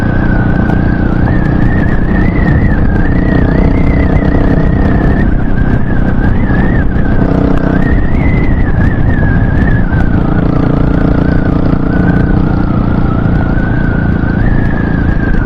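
A Honda Hawk 250 motorcycle with its stock engine runs steadily and loud, its engine note rising and falling slightly with throttle for the whole stretch, with no talking.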